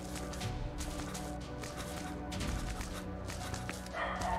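A dog barks repeatedly inside a video game, its yips and woofs coming in irregular bursts over steady game background sound.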